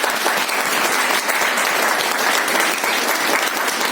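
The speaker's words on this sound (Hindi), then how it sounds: "मेरा ख्याल से जोरदार तालियां सुनते" An audience at a gathering breaks into loud, dense applause that holds steady throughout, many hands clapping close together with no speech over it.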